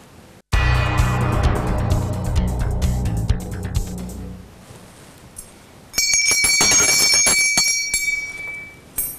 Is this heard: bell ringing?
yes